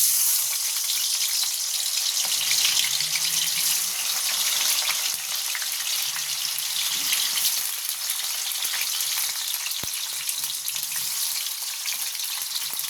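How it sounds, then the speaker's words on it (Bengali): Potatoes fry in a pan with a steady, dense hiss of sizzling oil that continues evenly throughout, close and fairly loud, with faint low knocks now and then and no voices. "এরপর আমি আলুগুলো দিয়ে দেবো ভাজার জন্য।"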